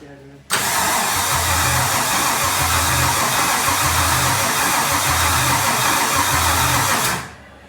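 A Gen V L83 5.3-liter V8 swapped into a Solstice cranks and fires up, a loud, close engine roar with a steady rhythmic low pulsing that runs for several seconds before cutting off abruptly.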